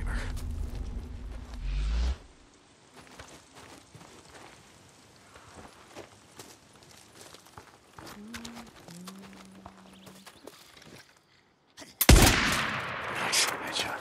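Gunfire in the zombie survival game Days Gone, a loud burst of shots at the start and another sharp, bright blast near the end, with quieter game ambience and faint movement sounds between.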